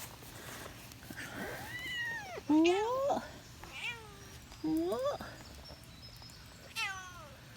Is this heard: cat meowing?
yes